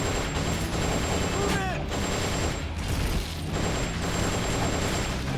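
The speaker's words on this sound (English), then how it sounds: "Oh, you firing rocket launchers at me?" Rocket launcher fire in Metal Gear Solid: Peace Walker, a steady barrage of explosive blasts and gunfire rumbling continuously while a person talks over the noise.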